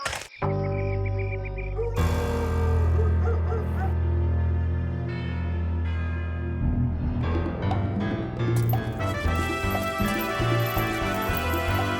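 Dog barking and whimpering in the Full Throttle Remastered video game, loud and close over layered game sounds, with no talking.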